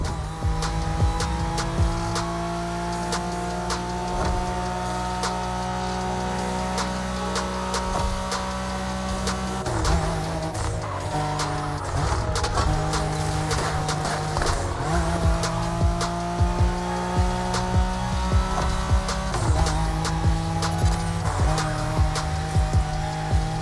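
A Nissan Skyline races in The Crew Motorfest, its engine roaring steadily while tires squeal and skid through corners, with shifting revs and loud continuous game audio throughout.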